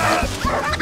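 A cartoon dog gives a short burst of high, yappy barking and whimpering sounds, close and clear, lasting under a second.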